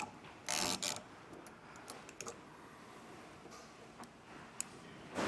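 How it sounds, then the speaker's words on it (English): A ratchet backs out bolts on a vehicle's rear fascia during a hidden trailer hitch installation, giving quiet, close clicking in short bursts and scattered single ticks, with a louder clatter near the start. "we're going to take a ratchet and we're going to back out all of our bolts"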